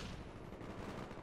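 Rapid automatic gunfire in the video game Black Ops 1, a dense burst of shots packed together over about a second, fairly faint and without talk.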